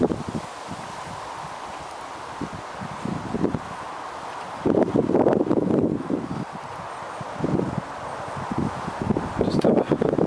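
Wind gusts outdoors on a rising walk near the old Team Colliery Waggonway, buffeting the microphone with a constant rushing roar and swelling gusts, mixed with rustling.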